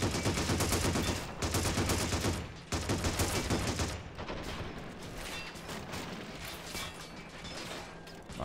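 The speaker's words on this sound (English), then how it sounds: "The machine gun, maybe?" Machine gun fire from the Men of War game crackles in dense, rapid bursts with mechanical clatter, loud for the first few seconds and then settling into quieter, busy battle noise.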